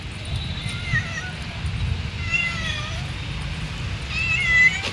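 A street cat meows three times in short rising and falling calls, fairly close, over a steady background rumble while being fed outdoors.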